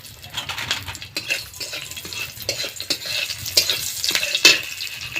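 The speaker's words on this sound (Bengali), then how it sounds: "ফোড়নে দিয়ে দিচ্ছি গোটা জিরে" Whole cumin seeds with two green chillies and one dried red chilli sizzle and crackle in hot tempering oil in a pan, with steady close frying hiss, occasional stirring scrapes and sharp pops throughout.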